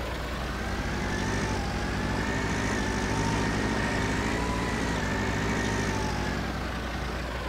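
A tractor engine in Farming Simulator 19 runs in a steady, loud, low drone that holds an unchanging pitch throughout, close and continuous, with no talk.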